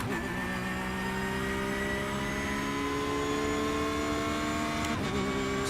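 A Porsche 992 GT3 R race car engine in the iRacing simulator drones steadily with rising harmonic whine as it accelerates through the gears, a shift audible near the end, loud and continuous without talking.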